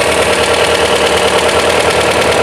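A Volvo 544 engine fitted with SU carburetors runs steadily at idle after carburetor tuning, with a close, even, continuous hum and a faint rhythmic pulse throughout.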